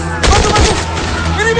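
Loud bursts of machine gun fire in a film battle scene rattle off in rapid succession, close and harsh, with a voice faintly under the shots.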